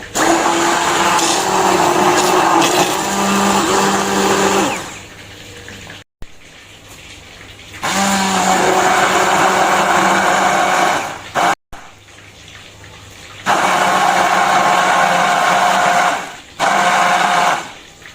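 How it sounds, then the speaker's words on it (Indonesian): A blender whirs loudly in three separate bursts, each several seconds long, with short pauses between them, pureeing chili paste with shrimp paste, sugar and salt. "Kita blender sampai lembut ya."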